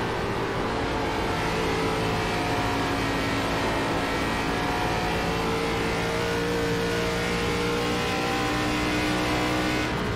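Engine of an ARCA stock car in the iRacing simulator at Dover during a qualifying lap, droning loud and steady as it holds high revs with slight pitch shifts and no voices.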